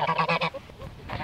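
Several geese honk in a quick, rhythmic series of nasal calls close by, followed by softer honks trailing off.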